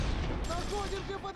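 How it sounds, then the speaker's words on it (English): Gunfire from the Close Combat III war game: a dense rattle of shots and bursts fills the moment, loud and crowded, and a voice talks over it. "Alright, they are shooting."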